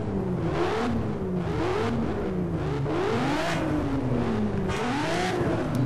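Veteran race car engine from the Need for Speed Shift racing game revving hard and continuously, with repeated rising and falling pitch sweeps as the gears shift, loud and close throughout with no talk.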